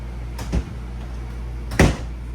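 A cabinet door on a 2025 Cruiser RV Stryker ST3413 toy hauler is shut twice, with a soft knock and then a louder close, nearby in a quiet interior.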